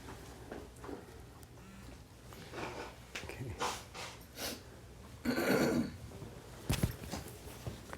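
Close-up snorts, throat clearing, grunts and coughs come in irregular bursts from one or more people, with a harsher cough near the end.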